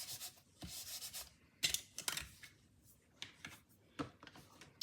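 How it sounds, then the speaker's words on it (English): An embossing buddy is rubbed over paper in quick, soft, brushing strokes, close and quiet, in several short bursts with small gaps between. "So I'll do my embossing buddy."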